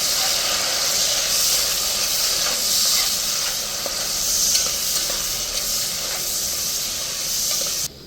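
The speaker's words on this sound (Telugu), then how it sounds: "అలాగే కొంచెం కరివేపాకు, అలాగే 2 పచ్చిమిర్చి కూడా వేసుకొని కలిపేసుకోవాలి." Curry leaves and green chillies go into onions frying in a pan for pulao, with a loud, hissing sizzle that runs steadily and swells briefly as they are stirred in, then cuts off sharply at the end.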